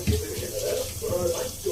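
Water poured over puffed rice (borugulu) to wash off the dust, a steady splashing pour running under a voice talking throughout.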